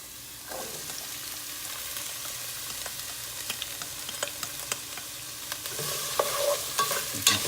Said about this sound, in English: You can stir that up a little bit and fry it till it's golden brown and tender.